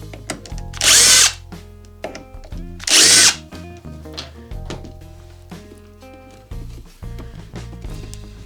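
A power drill loosens screws on an amplifier, with two loud whirring bursts of about a second each, followed by clicks and handling noises of the tool and casing.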